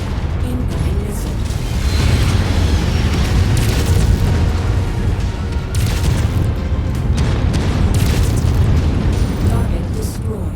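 Missile explosions from MechWarrior 5 rumble as continuous heavy booms and bursts. Mechanical combat noise runs beneath them, and talk is heard throughout.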